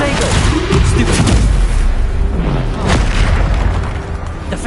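Booming spell explosions burst repeatedly in the Hogwarts Legacy game, loud and dense with overlapping blasts and rumble, while shouted spell names carry over the din.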